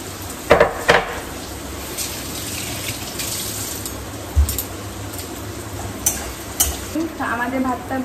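Mutton with cardamom is stirred and fried in a pan in a home kitchen, with a steady low sizzle under scattered scraping and clinking of the spoon against the pan.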